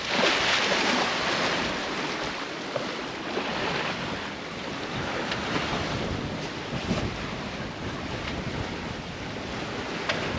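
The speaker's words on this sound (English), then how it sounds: "Still sailing along. The wind's still a little bit more behind us than we'd like." A sailboat running with the wind mostly behind it, sailing in open water between St John and St Croix, with steady rushing waves, hull wash and wind buffeting the microphone throughout, loud and continuous with no talk.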